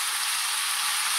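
Chicken for restaurant-style chicken jalfrezi frying in a pan as spices go in, giving a steady, close, even sizzle throughout with no voices.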